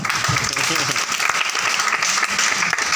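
A seminar audience at an award event in Bathinda claps steadily and densely throughout, with a voice heard over the applause.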